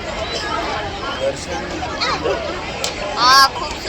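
A dense crowd at a Vitthal temple in Shahad, a steady murmur of many voices close around, with nearby talk and a brief higher-pitched cry or whistle near the end.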